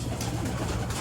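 Racing pigeons back home after a pooling race coo softly amid a dense, steady background hiss, a faint low murmur running through a single brief stretch.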